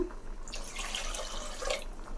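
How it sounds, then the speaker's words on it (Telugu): Water poured into mashed cooked toor dal for drumstick rasam, a soft, close splashing trickle that swells and fades over about two seconds. "దీంట్లోనే వాటర్ వేసుకుంటా నేను"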